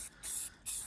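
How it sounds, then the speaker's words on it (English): Two short, close bursts of an aerosol spray paint can hiss against a wooden beehive, with a brief pause between them. "just moving the spray and not concentrating it too much in one spot so that it doesn't drip"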